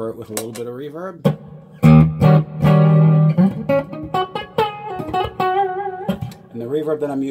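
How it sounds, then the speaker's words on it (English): Clean electric guitar through an Egnater Tweaker 88 amp with a Fender Marine Layer reverb pedal, close and moderately loud: plucked single notes and a held chord with a soft reverb tail. "I prefer it with a little bit of reverb."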